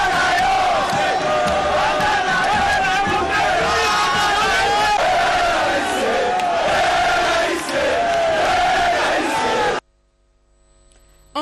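A large crowd cheers, shouts and chants loudly and continuously as the Congolese president moves among them after a ceremony with the national police. The noise stops abruptly near the end.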